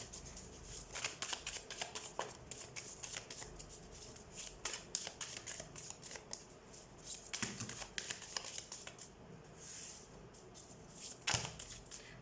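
Tarot cards shuffled and drawn by hand during a reading, a steady close-up run of soft riffling and sliding card noise with sharper flicks and snaps scattered throughout, and no voices.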